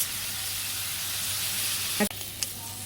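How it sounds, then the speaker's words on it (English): Cajun shrimp sizzle and fry in a hot pan with a steady, loud crackling hiss, broken by a brief clatter near the end. "Now shrimp cooks very quickly."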